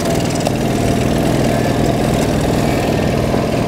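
A Solex moped engine at a circuit event chugs into life and keeps running with a steady, close, buzzing putter that stays loud throughout, with no talk over it.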